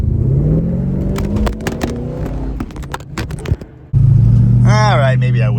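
A 1968 Plymouth Barracuda with a 318 V8 rumbles and revs nearby, rising and falling through bursts of clatter, then settles into a steady loud idle as a voice briefly talks over it.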